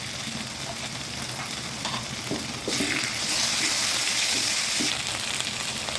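A paste of garlic, ginger, onion and cumin frying in a pan for a home-style meat curry, a continuous close sizzle that swells louder midway with a few soft stirring knocks, with no voices.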